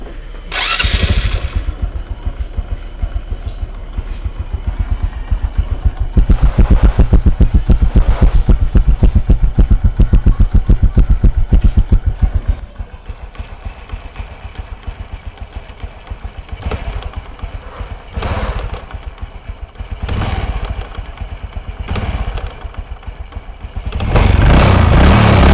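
Thai-built motorcycle engine revving and running in a workshop, loud bursts of throttle alternating with rougher idling, close and unaccompanied by talk.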